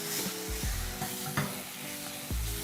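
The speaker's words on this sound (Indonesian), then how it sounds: "Tumis. Ini agak lama ya, kita goreng dia di ongseng." Bay leaves, lime leaves, crushed lemongrass and galangal sizzle steadily in hot oil in a wok for a spicy beef stir-fry, with several distinct scraping stirs of a spatula cutting through the constant close frying hiss.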